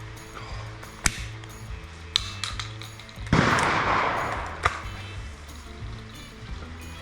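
A shotgun fires at a clay target at a clay shooting ground, one loud blast rolling into a long fading echo outdoors, with a few sharper, quieter cracks before and after it.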